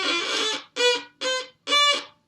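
Four separate bow strokes on a violin, drawn too slowly, give a scratchy, buzzy, harsh tone. Each stroke is short and close, with brief gaps between them.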